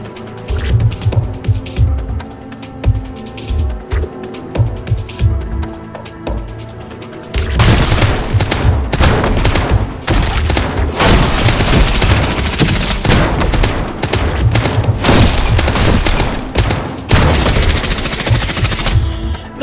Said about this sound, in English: He's now going to fire 60 shots per reload.